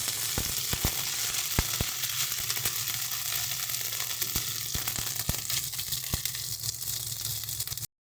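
Steady sizzling of onion with green chilli paste and ginger paste frying in hot oil, crackling continuously with sharp pops throughout, close and fairly loud, ending abruptly.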